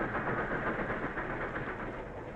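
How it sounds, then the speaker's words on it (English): A powerful steam locomotive hauls a long freight train with cattle cars and empty coal cars in 1940, heard as a faint, muffled, steady rumble with no voices. "the powerful steam engine"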